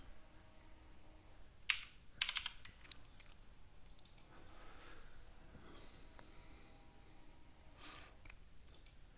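A computer keyboard is tapped while naming a crypto wallet, giving soft, close clicks and a few louder clustered keystrokes scattered over a quiet background with no talking.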